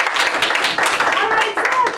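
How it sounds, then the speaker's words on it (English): An audience at a Toastmasters meeting claps for a speaker, a short burst of close, busy hand claps that fills two seconds with a voice faintly mixed in. "And I want to give Seth a round of applause because he finished on time."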